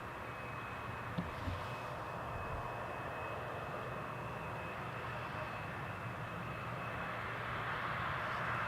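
A jet airliner landing on runway 18R at Amsterdam Schiphol Airport gives a steady, fairly faint broadband engine roar that holds evenly throughout, with a thin high whine on top.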